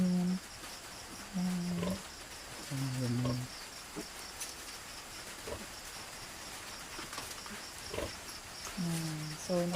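Six-day-old Large White piglets suckle from their mother sow as she lies down, giving short, squealing grunts in a few separate bursts over a faint insect-like background, with a person speaking briefly.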